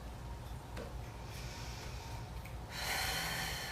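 A deep yoga breath exhaled during a seated spinal twist, a breathy rush that swells into a louder, broad airy exhale near the end, close and steady, with no talking.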